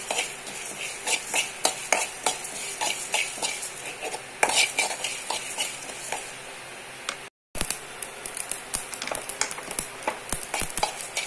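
Coriander, cumin and mustard seeds frying in a pan for brinjal and dry fish palya, with rapid clattering stirs and metal scraping over a light crackle, broken by one brief silent gap.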